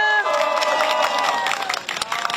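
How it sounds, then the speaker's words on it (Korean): Audience applause and cheering at a political rally, a crowd clapping loudly and steadily with shouts mixed in, starting with a brief tone and fading slightly toward the end. "박수 부탁드립니다"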